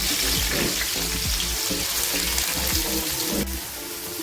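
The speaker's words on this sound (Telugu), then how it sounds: "ఇప్పుడు ఇదే ఆయిల్లో ఆనియన్స్ వేసుకుంటున్నాను" Onions dropped into hot oil for egg dum biryani fry with a loud, dense, continuous sizzle close by, easing slightly toward the end.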